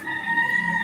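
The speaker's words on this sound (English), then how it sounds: "That rooster does not bother me one iota." A short, steady snatch of a rooster's crow in the Philippines, held as one drawn-out note at moderate distance.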